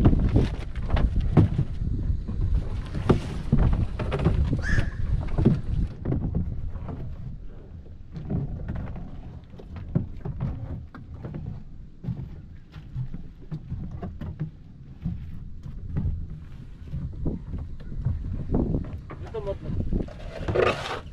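A small boat out at sea in blustery wind, with heavy microphone wind buffeting and rushing water noise throughout, and voices talking intermittently over it.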